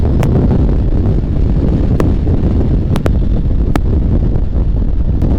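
Wind buffeting the microphone of a rider on a Suzuki Gixxer SF motorcycle, a loud, constant low rumble and roar with a few brief clicks, steady from start to end.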